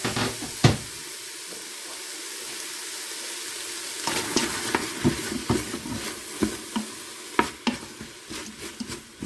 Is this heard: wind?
no